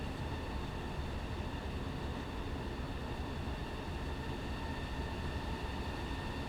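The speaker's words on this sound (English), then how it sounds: "so you get to hear the awesome turbo whistle" A diesel passenger train in Train Sim World 6 on the Czech Liberec to Stará Paka line, its turbo whistling as a steady, high tonal whine over a constant roar of engine and rail noise that holds for the whole stretch.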